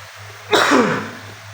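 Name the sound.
cough while drinking water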